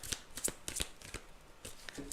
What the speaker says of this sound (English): Adet, let's get you some cards out.